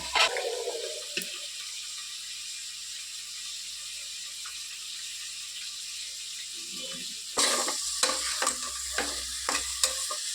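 Onion fries in ghee with a steady sizzling hiss, and after a short stretch louder stirring and scraping noises in the pan take over the sizzle.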